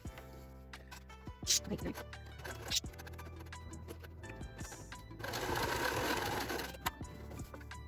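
A sewing machine stitches quilt pieces, its motor whirring in short bursts with a longer, louder run near the end, close by.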